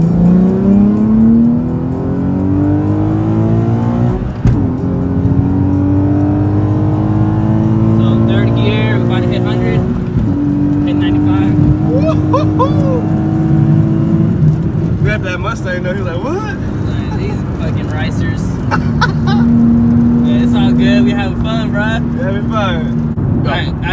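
A 2015 Nissan 370Z accelerates hard up an on-ramp onto the freeway, its engine note climbing steadily through several gear changes, loud and close from inside the car, with voices talking over it.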